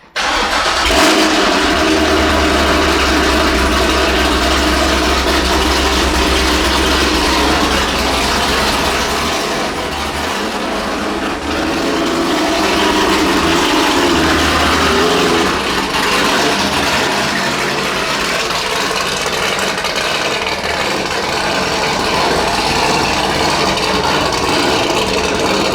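A loud Corvette V8 idles with a deep lumpy chop, then revs up and falls back in swells over a long stretch, close and alone with no talk.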